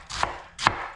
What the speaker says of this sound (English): we're going to cut the cabbage up